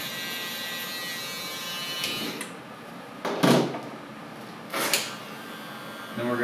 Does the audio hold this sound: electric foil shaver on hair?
yes